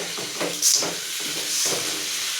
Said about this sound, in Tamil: தக்காளி வெங்காயம் பூண்டு இதெல்லாம் எண்ணெயிலே வதங்கி எண்ணெய் நல்லா பிரிஞ்சு வருது பாருங்க